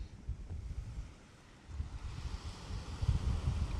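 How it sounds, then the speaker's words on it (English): Strong coastal wind on a stormy beach at Trimingham during sea fishing buffets the microphone in continuous low rumbling gusts, rising and falling without pause. "Wind's trying to take me shelter away now, which is a pain."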